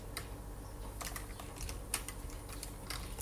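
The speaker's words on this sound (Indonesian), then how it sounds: "kita ketik dim a" Keystrokes on a computer keyboard while VBA code for a payroll calculation is entered, a quick run of close, light clicks in short bursts with small pauses, no voice present.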